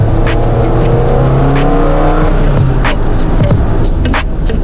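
A Nissan 200SX SE-R with an SR20DE engine and a cheap aftermarket intake runs hard at high revs, its loud continuous engine drone and intake roar accompanied by road and tire noise.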